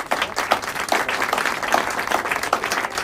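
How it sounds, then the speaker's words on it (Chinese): Group applause at a celebratory banquet for a colleague, a steady burst of many hands clapping together with a few sharper claps standing out, sustained and fairly close throughout. "来，大家给他鼓掌。"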